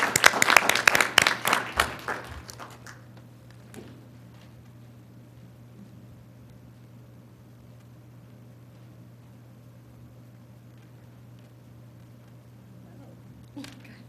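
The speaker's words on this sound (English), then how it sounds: "I can only just put my hands together and applaud you" A short burst of applause at a township board of health meeting, several people clapping near the microphone for about three seconds, then a quiet room with a low steady hum.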